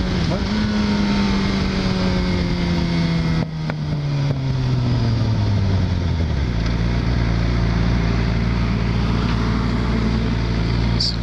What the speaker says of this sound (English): let me hit it a little and then downshift for y'all to hear